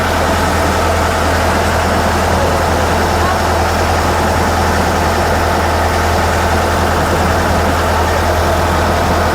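A loud, steady low engine drone runs without a break, with a constant hum and rumble of a motorboat underway on the water near Neermahal palace, Tripura.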